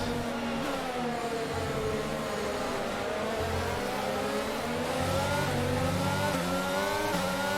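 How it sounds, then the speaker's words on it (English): A Formula 1 race car engine in F1 22 roars steadily under acceleration at a race restart during the French GP, the pitch climbing through the gears with a sustained, loud, close-up drone. "Great acceleration. Great restart from us."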